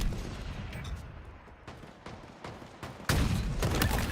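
Rapid gunfire rattles through a Halo multiplayer scrim match, a series of sharp bursts and thumps that grow louder and denser toward the end, with no talk.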